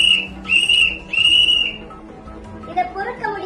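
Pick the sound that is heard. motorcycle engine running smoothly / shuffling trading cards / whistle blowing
whistle blowing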